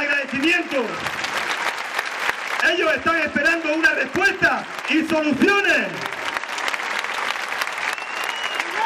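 Crowd applause at a street demonstration in Linares, breaking out loud beneath an amplified speaker addressing the gathering; clapping swells around and between the spoken phrases.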